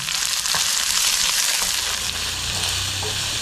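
Chopped onions with ginger-garlic paste fry in hot oil in a pan, a steady dense sizzle close by and fairly loud, with light crackle throughout and no talking.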